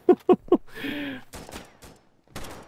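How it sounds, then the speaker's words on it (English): Gunfire from a weapon in a free online shooter game: three sharp, loud shots in quick succession, a brief voice, then a further burst of rapid fire. "This weapon has my favorite sound."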